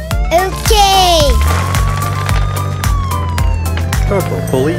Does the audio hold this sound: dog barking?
no